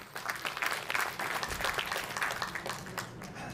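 Fairly quiet applause from a crowd, steady clapping that swells slightly then tapers off.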